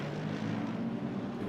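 Racing car engines in Assetto Corsa Competizione at an Italian Grand Prix start, a steady loud droning hum held at one even pitch with no break, and no talk over it.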